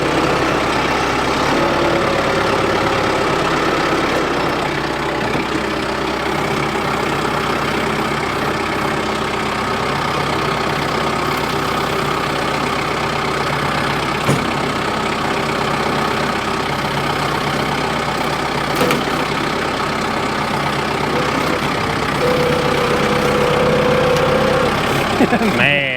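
A Kubota BX23S compact tractor's engine idles steadily throughout, a continuous close drone with occasional metallic clanks and bumps, and people talking intermittently nearby.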